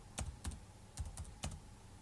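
Keys on a computer keyboard tapped in a light, uneven rhythm, about five distinct clicks over two seconds, close and fairly quiet with no voices.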